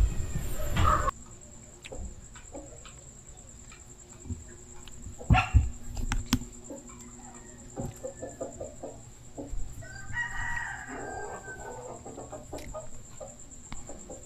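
Scattered clucks and soft calls from chickens in a quiet night setting, with a steady high electrical hum and occasional knocks in the background.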